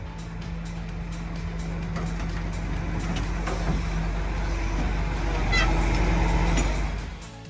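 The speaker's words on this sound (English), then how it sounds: "the car's being towed right here" A BMW M3 with an SMG transmission fault is towed by a large, heavy vehicle whose low engine drone rumbles steadily and nearby, with clanks and squeaks on top before it eases off near the end.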